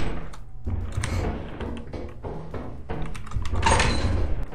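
A door opening in the video game Lethal Company, a muffled clunk and rattle rising near the end amid soft thumps and footsteps.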